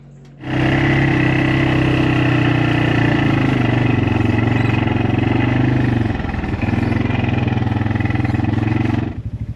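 A kids' 4x4 ATV engine idles steadily and loudly at close range at a motor campground, a continuous droning hum that dips briefly partway through before cutting off at the end.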